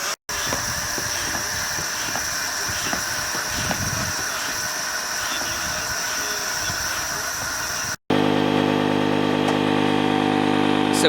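An electric air pump inflating something in a race against a hand pump at a camp: a steady droning motor with a hissing rush, then a louder, buzzier whine for the final few seconds.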